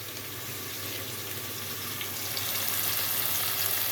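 Herb stalks frying in hot oil for a Nellore-style fish curry, a steady, close, even sizzle that swells slightly louder toward the end, with no talking.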